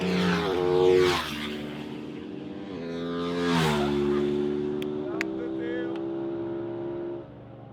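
A racing motorcycle laps Misano World Circuit at a Pirelli track day, its high engine whine rising and falling as it sweeps past twice, then holding a steady, fairly close drone.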